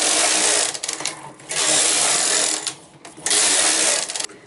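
A knitting machine works a few rows, its carriage sweeping back and forth in loud, whooshing mechanical passes with short clacking pauses between strokes.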